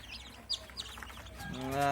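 Freshly hatched Sonali chicken chicks from a 200-egg incubator batch chirp in a quick scatter of thin, high peeps up close, ending in a louder, sustained tonal call.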